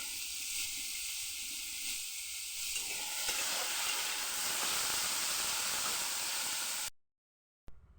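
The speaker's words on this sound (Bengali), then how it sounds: "আর কাঁকরোল আলুটাকে ভালোভাবে ভেজে নেব" Spiny gourd and potato frying in a pan with cumin give a steady, close sizzle and hiss that runs loud and unbroken for about seven seconds, then cuts off abruptly before a brief return.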